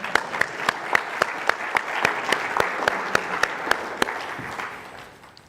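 Audience at a bar association memorial lecture applauds the lecturer, a sustained round of many people clapping with a few sharp, louder claps standing out, fading away at the close.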